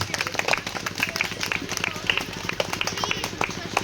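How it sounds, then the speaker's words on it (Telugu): Audience at a Karthika forest-gathering celebration clapping hands, a steady patter of many claps mixed with crowd chatter and voices throughout. "గిఫ్ట్ ఇచ్చినప్పుడల్లా ఒకసారి క్లాప్స్ కొట్టండి"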